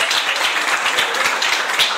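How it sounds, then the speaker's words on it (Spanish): Congregation applauding during a Catholic church service, a full, lively burst of many hands clapping at once, close and loud throughout, with no talk on top. "un aplauso para la Virgen"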